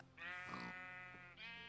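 A Minecraft sheep bleats in a long, wavering, nasal cry, then another bleat begins near the end, loud and close with no talk over it.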